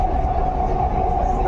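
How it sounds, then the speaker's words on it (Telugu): Steady, loud rumble of a Hyderabad underground metro train running through a tunnel, with a constant droning hum and no pauses. "Under ground metro."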